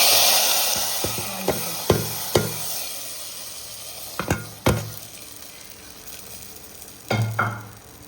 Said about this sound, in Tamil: மீன் குழம்புக்கெலாம் வடவம் போட்டு தாளித்து குழம்பு இறக்குறது